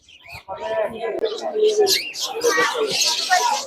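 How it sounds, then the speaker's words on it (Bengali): Australian doves and pigeons cooing and chirping at a bird market in Mirpur, close by, with people talking loudly over the birds. "চমৎকার চমৎকার কিছু পাখি রয়েছে এবং অস্ট্রেলিয়ান জাতের ঘুঘু রয়েছে এখানে"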